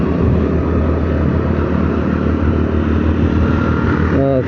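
A Honda Activa 6G scooter engine drones steadily at highway cruising speed with constant wind and road rush, loud and close, holding an even pitch throughout.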